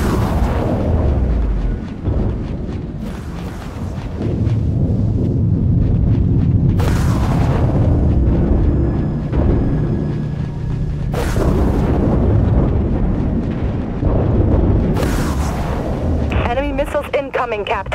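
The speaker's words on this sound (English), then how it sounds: "Firing catapult. Launching stasis warhead." Stasis warhead and artillery fire from a Vucari artillery cruiser in the naval space battle game Dreadnought: heavy, loud explosions and deep booms roll one after another for the full stretch, with occasional voices over them.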